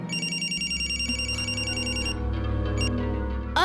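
Mobile phone ringing with a bright repeating electronic ringtone melody, fairly close, over low background hum, with a short rising sound at the end.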